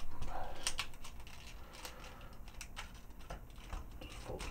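Small plastic parts of a Masterpiece Ironhide Transformers toy are folded and shifted by hand, making a string of close, light clicks and taps with no talking.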